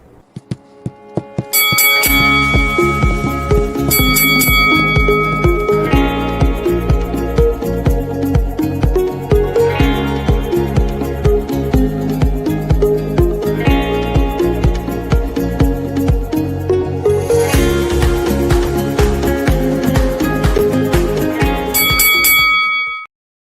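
A bell rings repeatedly, loud and bright, its clustered strikes layered over a continuous rhythmic musical backing that runs through the whole stretch and ends abruptly.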